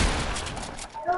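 A short burst of rapid gunshots crackles in a video game, dense and fairly close, fading out after about a second while a voice talks over it.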